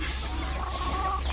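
Chickens clucking at a Filipino coconut farm, soft repeated clucks over a steady low background hum, with no talking.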